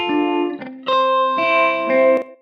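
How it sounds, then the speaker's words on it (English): Synth-like tones with a tight slapback echo, each note doubled by a quick short repeat, loud and clear with no talking. "here we have a type slapback echo"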